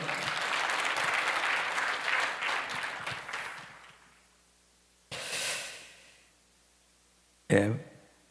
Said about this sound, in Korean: 우리 나오실 때 큰 박수 부탁드립니다